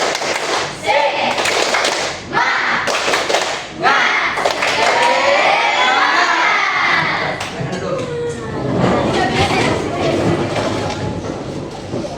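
A group of children in a classroom claps in bursts and shouts a rhythmic chant together, the claps and voices loud and close.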